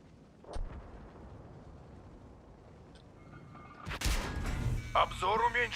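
A tank gun fires in World of Tanks, a sudden loud broadband blast about four seconds in followed by rumbling battle noise and a brief softer pop earlier.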